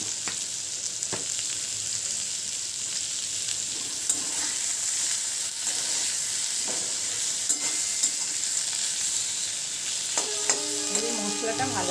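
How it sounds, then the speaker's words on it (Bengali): A spice paste of ground coriander, turmeric and a pinch of sugar fries and is stirred in a pan, a steady near sizzle with intermittent spatula scrapes and taps and a brief tonal beep near the end. "মশলাটা ভালো করে কষে নিই।"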